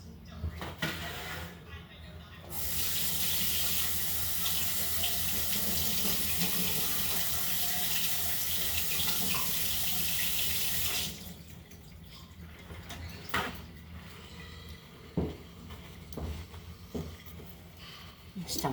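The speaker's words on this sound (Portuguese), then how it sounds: "Deixa-me lavar aqui as mãos." Water runs steadily from a kitchen tap for several seconds as hands are washed beneath it, a loud continuous splashing rush that cuts off abruptly, followed by quieter clinks and handling sounds.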